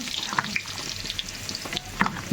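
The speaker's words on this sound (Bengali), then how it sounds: "তেলের মধ্যে আমি একটু আলু দিয়ে দিচ্ছি" Potatoes spit and crackle in hot cooking oil, a soft sizzle close by, broken by a few sharp pops and clinks of a utensil at moderate loudness.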